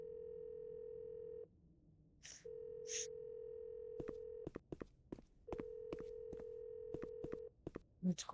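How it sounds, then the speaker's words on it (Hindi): A phone places a call in a Roblox horror game: a steady ringback tone pulses in long stretches, broken by short beeps and sharp clicks, quiet and clean with no talk. "okay let's give Elon a call"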